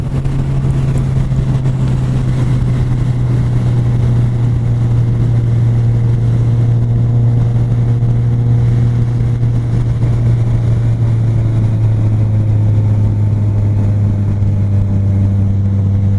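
A Kawasaki Z1000 motorcycle cruises in sixth gear at about 3,000 RPM, its engine a loud, steady low drone with constant pitch throughout.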